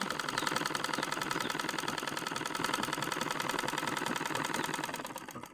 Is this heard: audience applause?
no